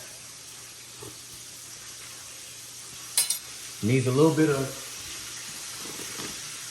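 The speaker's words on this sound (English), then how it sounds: "if y'all hear something in the back, that's me frying chicken also" Chicken sizzles steadily in hot oil in the background while pork rib tips are cooked. A short clatter comes partway through, then a person speaks briefly over the frying.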